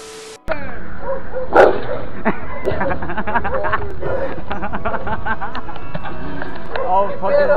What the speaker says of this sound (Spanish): Todo por querer grabar el pinche perro de Gabo.